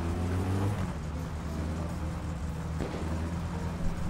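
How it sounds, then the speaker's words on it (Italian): Car engine in My Summer Car, sputtering slightly after a wheelspinning launch, heard as a steady low rumbling drone with uneven harmonic bands that shift and stutter through the moment. "Scoppietta un po' il motore, ma va benissimo."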